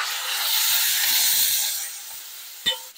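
Water hits a hot wok of cauliflower stir-fried with doubanjiang and gives a loud, broad hiss and sizzle that slowly fades, then a sharp clack near the end.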